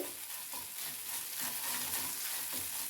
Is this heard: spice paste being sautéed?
yes